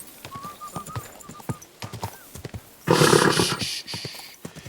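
Horse hooves clop in an uneven rhythm in the video game Kingdom Come: Deliverance II, with birds chirping around them, before a louder burst of rushing noise takes over.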